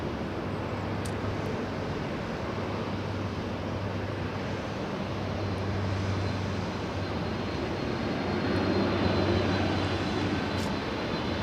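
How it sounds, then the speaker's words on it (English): An Air Canada Boeing 737 MAX taking off at Los Angeles International Airport, a steady broadband jet engine roar that swells slightly toward the end, heard at a distance with wind-like hiss. "The 737 taking off right now, flying to Vancouver"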